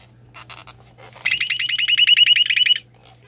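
A toy Space Thunder space gun fires a short electronic effect: a few soft bleeps, then a loud warbling siren-like pulse for about a second and a half before cutting off.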